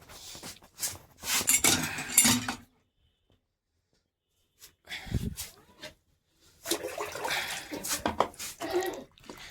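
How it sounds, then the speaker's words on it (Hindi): A beetroot is washed under running water in bursts, splashing and pattering close by, with a silent pause between the rinses. "तो हमने एक चुकंदर निकाल लिया है और इसको धुल लेते हैं फिर खाते हैं"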